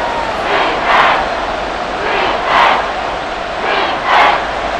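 Simulated stadium crowd in Madden NFL 24 during a Packers versus Buccaneers game, a steady roar that swells in three rhythmic cheering surges about every second and a half, with no talk over it.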